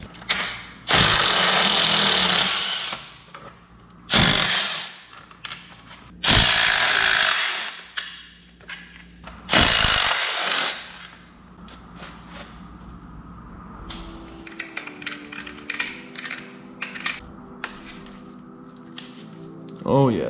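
Torx bits on a power driver spin out subframe bolts from a wrecked 2014 Yamaha R1, with several loud, separate whirring bursts of a second or two each, then quieter metallic clinks, ratcheting and handling noise as parts come loose.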